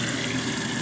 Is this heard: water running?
yes